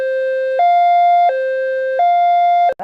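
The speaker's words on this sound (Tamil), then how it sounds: "அடுத்ததான் நம்ம பார்க்க போகிறது ஐலோ சைரன்." An ambulance's hi-lo siren alternates steadily between a low tone and a higher tone, about four swaps in a few seconds. It is loud and clear with nothing else behind it and cuts off sharply at the end.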